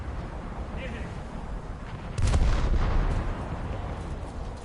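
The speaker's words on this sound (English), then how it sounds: "when they do land, oh my god, that shot's gonna go long, for sure" Warship naval gunfire in War Thunder: a single loud, deep boom strikes partway through and rumbles briefly before fading back into steady low background noise.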